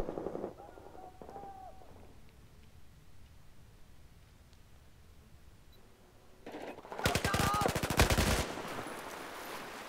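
Gunfire rattles in a shooter video game, a few faint shots early, then a loud rapid automatic burst near the end over a low steady background hum.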